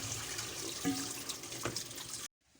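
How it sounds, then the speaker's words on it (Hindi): Rice for kheer is washed under a running kitchen tap. Water pours steadily and close, with faint splashing, then cuts off abruptly near the end. "अभी मैं चावलों को धो लेती हूँ।"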